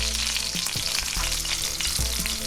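A sous vide deer roast sears in a hot pan to build a crust: a steady, close, loud sizzle and crackle of frying, with occasional scrapes and no voices.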